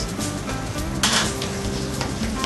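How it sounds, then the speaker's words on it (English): Minced veal hits a hot pan that already holds bacon, giving a loud burst of sizzling with a clatter of utensils against the pan, then a steady frying hiss. "Next I'm going to actually add the minced veal to that."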